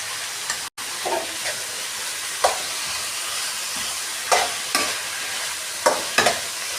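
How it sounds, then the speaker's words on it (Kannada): Tomato and coriander leaves fry in a pan, giving a continuous close sizzle and hiss broken by intermittent scraping stir strokes, with no voices. "ಇದೆಲ್ಲ ಫುಲ್ ಫ್ರೈ ಆಗಬೇಕು."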